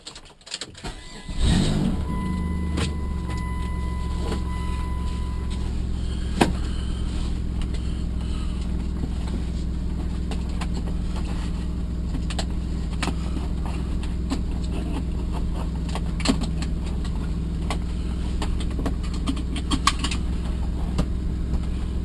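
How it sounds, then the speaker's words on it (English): A car engine starts, then settles into a steady low rumble while driving, with occasional clicks and rattles from inside the cabin, on the first drive after new suspension bushings were fitted. "first drive with the new bushings."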